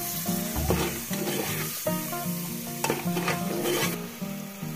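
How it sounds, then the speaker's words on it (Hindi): Chopped tomatoes and spices frying in a pan for whole masoor dal, with a loud continuous sizzle and repeated scraping stirs; a faint tonal hum runs underneath. "ये जो चॉप टोमेटोज थे, ये ऐड कर देंगे हम इसे और इसे अच्छे से भून लेंगे।"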